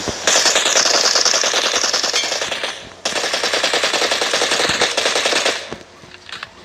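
Automatic gunfire from the video game PUBG: two long, loud, close bursts of rapid shots with a brief break between them, then tapering off near the end; no voices.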